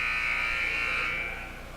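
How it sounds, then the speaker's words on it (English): Basketball game buzzer sounding at halftime in a college men's game between UMass Boston and Wentworth Institute, a steady loud electronic tone held for nearly two seconds and tapering slightly at the end. "Boyd instead penetrates over Tamboro at the buzzer"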